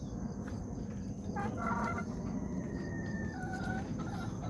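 Young roosters (stags) crow and cluck nearby, with several rising crows and short clucks over a steady background hum of a farm setting.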